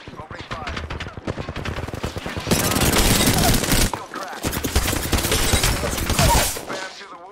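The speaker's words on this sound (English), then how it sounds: "Getting shot at. Opening fire." Rapid gunfire in a video game battle, dense bursts of automatic fire and sharp shots rattling nonstop, loud and close, with brief gaps between volleys.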